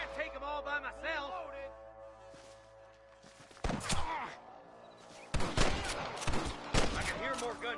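Bursts of gunfire in Red Dead Redemption crack out in rapid clusters after a stretch of music and dialogue, loud and close, with voices shouting between volleys.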